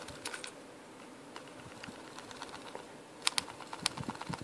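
Faint, irregular light clicks and taps from a fingernail hitting a plastic PlayStation Vita handheld case while it is shaken, quiet and close against a soft background hiss.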